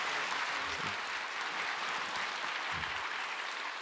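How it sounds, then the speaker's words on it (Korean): Church congregation applauding to welcome a pastor, a steady wash of clapping from many hands filling the hall for several seconds, moderately loud and with no speech over it. "보내신 하나님께 큰 박수와 환영하는 박수로 압도하겠습니다"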